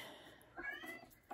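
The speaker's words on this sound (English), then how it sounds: "Oh, cat." A cat meows indoors, a short faint mewing call with a rising tonal wail, followed by a brief second sound.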